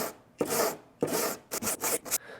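Hand sanding body filler on Corvette Z06 rocker panels, a rough, rasping scrape in repeated strokes, some long and some short quick passes, close up with no talking.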